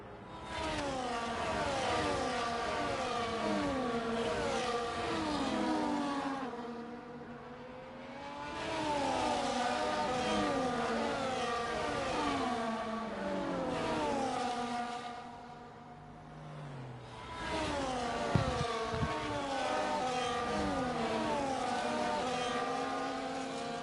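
Racing cars in the F1 24 video game on the Jeddah circuit, engines whining loudly and continuously as several cars pass in close succession, pitch sweeping up and down through gear changes, with brief dips between passes.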